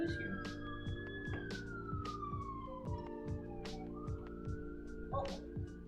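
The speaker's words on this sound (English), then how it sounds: "There's a siren outside." An emergency siren wails outside while more than one emergency vehicle passes, its pitch sweeping and falling over a steady background of game music with repeating tones and clicks, distant and fairly quiet.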